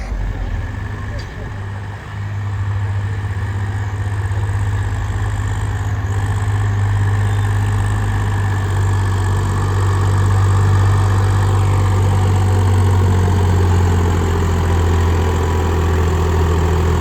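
A Swaraj 855 tractor engine in first gear chugs steadily at a low, heavy rumble, running continuously and close up with a constant drone throughout.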